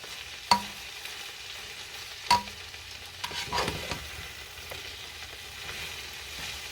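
Greens for menestra, a beans-and-greens dish, stirred in a hot pot with a soft sizzle, two sharp clanks of the spoon on the rim, then scraping and turning.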